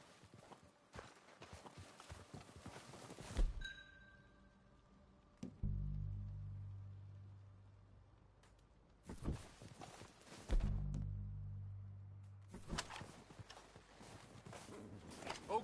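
Horses' hooves clip-clop in Red Dead Redemption 2, arriving in several short bursts of hoofbeats separated by quieter stretches, moderately close.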